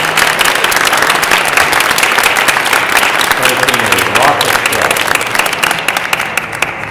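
Applause from a forum audience greets speakers coming up at a public meeting on domestic partner benefits in Chattanooga, sustained crowd clapping that runs steadily and tapers slightly near the end.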